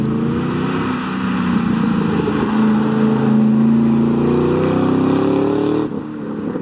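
A Chevrolet Camaro ZL1 convertible, weighing over 2000 kg and running wide 305 rear tyres, drives through a corner. Its engine drones steadily and loudly, rises slightly in pitch, then drops off abruptly near the end.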